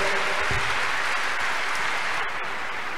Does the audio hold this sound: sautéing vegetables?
no